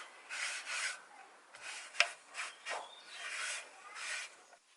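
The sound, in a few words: wiping a surface with a damp microfiber cloth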